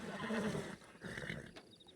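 A horse neighs in Red Dead Redemption 2, a loud whinny up close that trails off after about a second and a half, with faint clip-clop and game ambience behind it.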